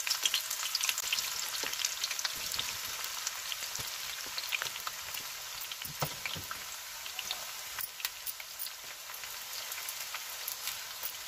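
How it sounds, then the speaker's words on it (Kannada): Bitter gourd sizzles and crackles steadily in hot oil in a pan, a continuous close hiss with scattered pops and no talking. "ಈಗ ನಾವು ನೋಡಿ ಎಣ್ಣೆ ಕಾದಿದೆ. ಈಗ ಹಾಗಲಕಾಯಿಯನ್ನು ಹಾಕ್ತಾ ಇದ್ದೀನಿ ನಾನು."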